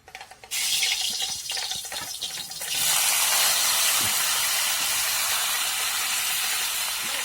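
Bitter gourd pieces go into hot oil in a home kitchen pan, and a loud, steady sizzle bursts up and then settles into a continuous hiss after some initial clatter.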